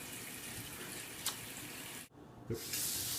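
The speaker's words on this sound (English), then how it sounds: "Wash your hands." Hands being washed under a running kitchen tap, a steady close rush of water with a couple of brief splashes and a short break in the flow before it resumes.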